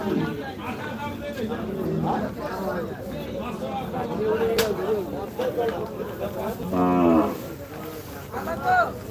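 Small cattle at the Gabtoli cattle market in Dhaka low and moo, including a drawn-out call near the end, amid crowd chatter and someone talking nearby.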